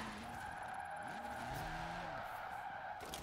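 A car on drag tyres slides sideways in Forza Horizon 4, engine droning steadily while tyres squeal in long wavering skids that rise and fall under a constant high whine.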